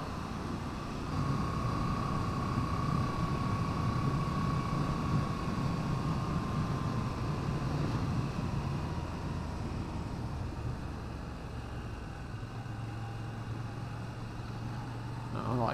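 A Moto Guzzi V7 motorcycle engine runs steadily at a constant low rumble with a faint tonal whine layered on top, sustained for the whole stretch and lacking obvious revving, while the surrounding noise stays broadband.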